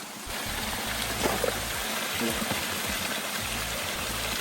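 Spring water runs from a source pipe at a snowy mountain spring, a soft, continuous trickling gush heard close by at a low, even level, with faint bubbling and no clear talk.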